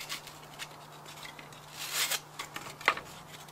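Scissors snipping and cutting the centers out of paper forms, close and quiet, with scattered light snips and rustles and a brief louder cluster of cuts, over a faint steady hum.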